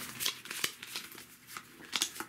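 Playing cards from an Arkham Horror card game being shuffled by hand, a quick run of crisp papery riffles and flicks up close, with no talking.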